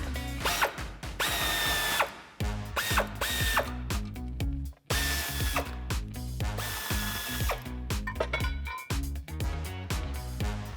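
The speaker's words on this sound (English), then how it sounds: "Grab your 15mm socket and go ahead and get them out." A power tool with a 15mm socket spins out frame bolts on the front bumper of a 2007-2013 Chevrolet Silverado 1500, giving loud, continuous ratcheting and whirring bursts with brief pauses between them.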